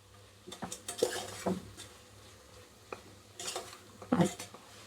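Garam masala, coriander, chilli and cumin powders and kasuri methi are stirred in a pan for tomato bath: scattered metal clinks and scrapes against the pan, with a faint sizzle between them.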